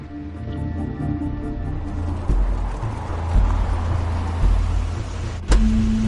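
A car interior in The Wolf Among Us video game, with a power window whirring down steadily under low engine rumble, followed by several dull thumps and a clunk near the end.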